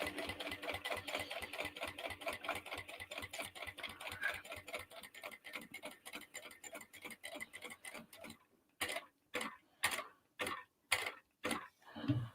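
A sewing machine runs steadily, stitching a dolly bag with a rapid, even mechanical clatter, then slows into separate spaced stitches near the end, close and alone without talk.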